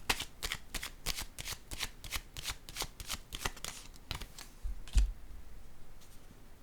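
Playing cards riffle-shuffled for a card reading, a rapid run of crisp, close flutters and snaps that ends in a soft thud and then quiet, with no voices.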